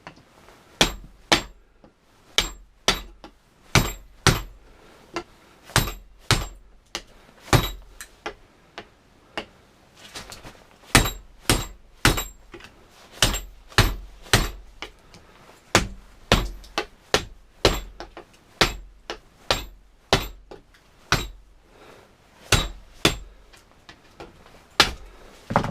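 Hammer blows strike a scrap transformer being broken apart for its copper, about forty sharp metallic whacks in irregular bursts with brief pauses, close and loud, with no voices.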